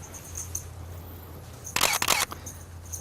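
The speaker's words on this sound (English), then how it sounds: "Now the horse is used to the shutter click" A camera shutter fires at 1/100 of a second while photographing a horse, giving a short, crisp burst of clicks over a faint steady hum in a quiet setting.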